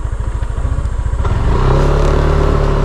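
A repaired motorcycle engine idles with a loud, steady chugging pulse close by, then revs up into a higher, smoother sustained drone.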